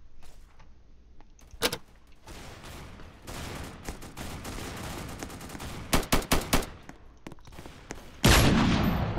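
Gunfire in the Roblox-style shooter game Strucid, with scattered single shots and quick bursts of rapid fire, sharp and loud against a low background, ending in a heavy sustained blast.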